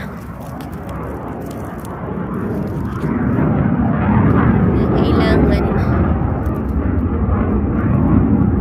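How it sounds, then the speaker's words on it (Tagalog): A fighter jet roars overhead, a loud, continuous broadband rumble that swells partway through and stays strong, with a voice speaking briefly over it outdoors. "Diyan na naman yung jet fighter."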